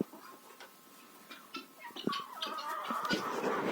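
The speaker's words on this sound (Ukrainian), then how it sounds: "курочка, от, оце зараз кокає" A hen clucks in a winter poultry yard among bantams and turkeys, giving soft, short intermittent clucks that build toward a louder, more continuous burst of calls near the end.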